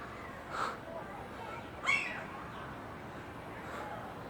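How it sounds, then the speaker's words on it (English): Seagulls squawking outdoors, three separate harsh calls spaced about a second apart over faint background noise. "There's so many seagulls."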